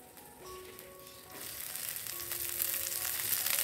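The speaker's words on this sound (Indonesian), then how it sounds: "Terus ini kacang sama toge yang aku tumis." Peanuts and bean sprouts stir-fried in a pan give a quiet sizzle that swells after the first second into a steady, hissing fry, with faint tonal hums in the background and no talking.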